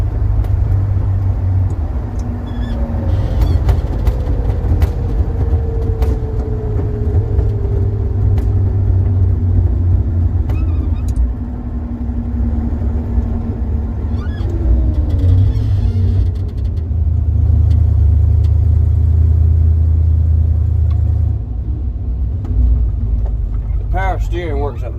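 A 1979 Chevy C20 truck engine rumbles loudly while driving, its pitch sweeping down and up through downshifts, with road noise and someone talking over it.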